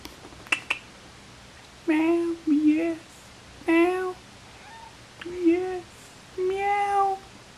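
A fat cat lying in front of a warm fire gives several distinct meows in a row, spaced a second or so apart, close and clear, after a couple of faint clicks at the start.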